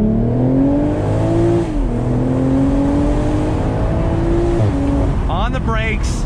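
A 2020 BMW Z4 M40i sports car engine climbs in pitch under throttle, shifts gear, then revs up again in a steady, loud whine.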